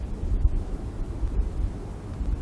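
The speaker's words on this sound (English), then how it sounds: "Here comes a little more wind." Wind blowing outdoors across a microphone, a low rumbling buffet that rises and falls in gusts, steady and fairly loud, with no voices.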